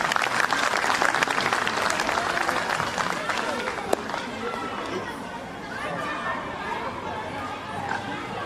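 An audience at a school annual day celebration claps vigorously in a long, dense round of applause, with crowd chatter underneath as the clapping eases slightly.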